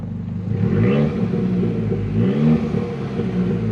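An Abarth 595's small engine revs hard twice in Sport mode, the pitch climbing and dropping with each throttle blip over a steady low rumble, close and loud.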